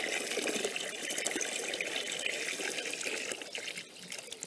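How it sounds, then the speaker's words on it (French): Tap water pours steadily into a basin for a garden dandelion fertilizer, a continuous bright splashing gush, close and fairly even, that eases slightly at the end. "on va mettre une bonne quantité de flotte"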